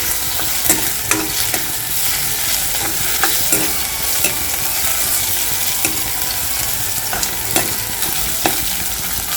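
Garlic-ginger paste sizzles in a hot pan over a medium-high gas flame while a spatula stirs it, with steady frying hiss and repeated scraping clicks close by, no voices.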